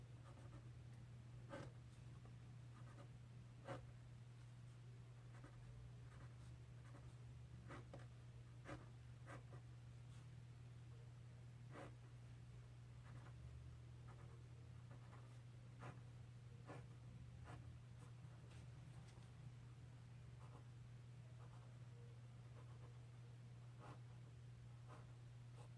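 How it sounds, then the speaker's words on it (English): Pen or pencil scratching out a rhythm by hand on paper, faint intermittent strokes and taps over a steady low electrical hum, with no talking. "I'm just going to write the rhythm out."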